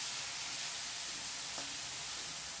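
Masala for a kabuli chana ghugni frying in a little oil in a pan while being stirred: a continuous close hiss and sizzle with faint scraping, no talk.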